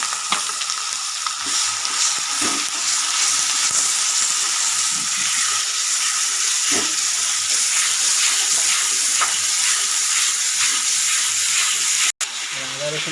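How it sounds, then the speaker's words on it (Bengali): Minced ginger and garlic frying with dried chillies in hot oil, a steady bright sizzle with faint stirring clicks, close and continuous while a person talks over it, ending with a brief clatter. "আদা রসুন কিমাটাকে ভালো করে লাল লাল করে ভেজে নেব"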